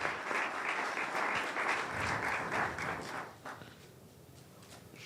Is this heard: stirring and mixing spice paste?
no